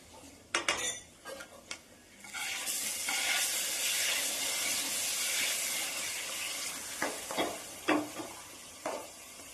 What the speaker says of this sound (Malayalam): ഈ ഒരു പരുവത്തിൽ നമുക്ക് വറുത്ത് വെച്ചിരിക്കുന്ന തേങ്ങാക്കൊത്ത് ഇതിലേക്ക് ചേർത്ത് കൊടുക്കാം